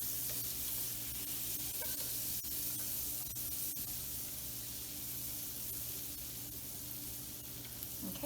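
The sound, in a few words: butter melting and sizzling in a hot pan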